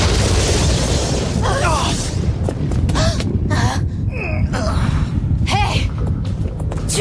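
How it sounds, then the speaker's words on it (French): A burst of cartoon plasma explosion attack effect from the Redakai animated series, a loud broadband rush opening the moment, then mixed under excited French-dubbed voices and further zapping effects. "Explosion plasma!"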